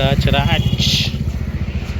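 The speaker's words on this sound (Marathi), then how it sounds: "आता बघा हे आमची बाईक" Motorcycle engine idling nearby with a rapid, even putter that runs under someone talking for the whole moment.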